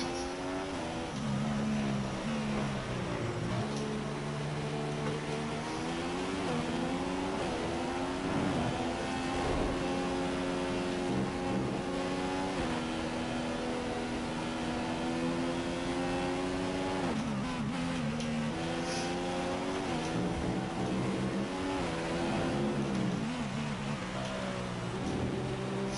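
Formula 1 race car engines at the United States Grand Prix in the F1 2015 video game, a continuous high-pitched whine that rises and falls with revving and gear shifts, loud and steady throughout with no talk.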